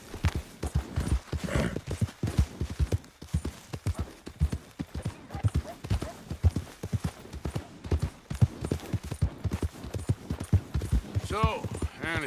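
Horse hooves clip-clop in a quick galloping rhythm in Red Dead Redemption 2, loud and steady throughout, with a horse whinny near the end and speaking voices in the game over the hoofbeats.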